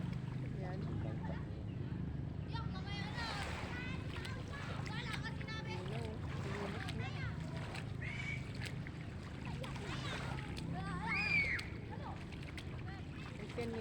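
A small boat (bangka) moves on open water during a swim outing, with a steady low engine-like drone and water wash throughout, wind buffeting the microphone and people chattering over it.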